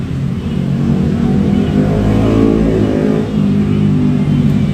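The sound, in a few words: motorcycle revving with loud aftermarket exhaust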